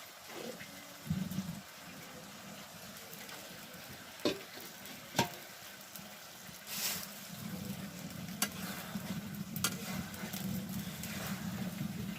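Meat dropped into a pan of fried spices, bursting into a low rolling sizzle that builds and holds, with a few sharp spoon clinks against the pan, fairly quiet.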